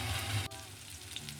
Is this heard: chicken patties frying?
yes